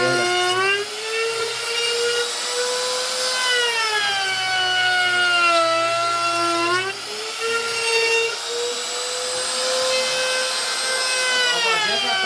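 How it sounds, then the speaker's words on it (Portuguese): A wood router cuts and hollows a round slab of wood, its high whining motor pitch wavering up and down as the bit bites into the grain, loud and continuous throughout. "a tupia comendo madeira"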